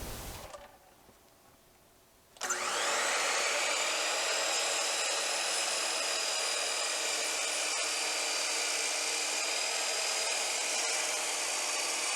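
A miter saw cuts wood with no dust collection attached, a brief quiet lead-in, then the motor spins up and the blade's loud, steady whine and rasp hold to the end.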